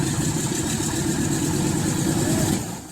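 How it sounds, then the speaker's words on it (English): The radial engine of a World War II-era C-47 airplane starts up after ten years, a loud, continuous rough rumble that eases off near the end. "This C-47 beauty since World War II is waking up for the first time in 10 years."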